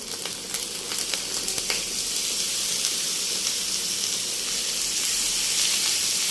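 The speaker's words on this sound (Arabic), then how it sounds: "هنزل عليها ب 500 جرام من اللحمه المفرومه" Minced meat frying with softened onions in a hot pan, a steady bright sizzle with crackling pops and occasional scraping, close and continuous with no talking.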